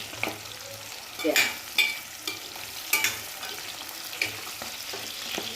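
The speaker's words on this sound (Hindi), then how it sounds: "यहाँ देखिए हमारी प्याज है जो फ्राई करते करते सारी खुल चुकी है।" Sliced onions deep-frying in hot oil in a pan for a capsicum curry, a steady close crackle and sizzle broken by louder bursts and stirring clinks, with no talking.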